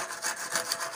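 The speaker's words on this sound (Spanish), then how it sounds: "Esta es la forma de ir cortando el cemento, de ir alisando así" Screed board dragged across a wet concrete floor slab, smoothing and cutting the surface in a room; steady rasping scrapes pulse in a rough rhythm, close and moderately loud with no talk.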